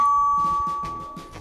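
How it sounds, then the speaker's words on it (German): A video game doorbell rings at a campsite check-in: a steady electronic tone holds for about a second with several soft chime-like bursts layered over it, moderately loud and close, with no talking. "Okay, klingel ich halt."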